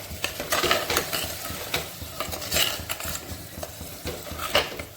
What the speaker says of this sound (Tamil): கத்திரிக்காயை போட்டு நல்லா கிளற போகிறோம்